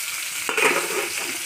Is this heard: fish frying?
yes